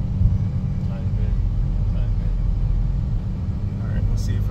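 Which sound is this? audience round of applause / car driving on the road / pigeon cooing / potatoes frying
car driving on the road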